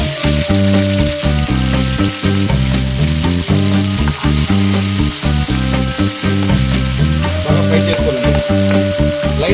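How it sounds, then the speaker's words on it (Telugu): Small shrimp hit very hot oil and fry with a loud, dense, continuous sizzle that holds steady throughout, close up and alone. "ఇప్పుడు బాగా వేడైన ఈ ఆయిల్లోకి ఈ రొయ్యలు వేసుకోవాలండి."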